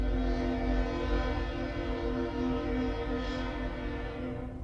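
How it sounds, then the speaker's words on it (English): A train rumbles steadily past with a sustained, loud horn tone layered over the rolling rail noise, continuous and close throughout, heard near a truck parking area. "train."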